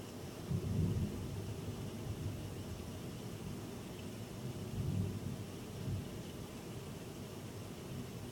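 Distant thunder from a passing storm rumbles twice, first near the start and again a few seconds later, over a soft, steady wash of rain and wind noise.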